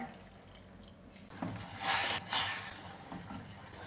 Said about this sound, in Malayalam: ഈ കപ്പിന് 1/2 കപ്പ് വെള്ളം കൂടെ ഞാൻ ഒഴിച്ചു കൊടുക്കുവാണ്